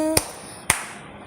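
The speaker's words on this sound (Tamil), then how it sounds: "இயேசுவை நேசித்தால் கைதட்டு" Children clap along during a church song at a kids' Bible class, three sharp, evenly spaced claps ringing out after a brief sung note.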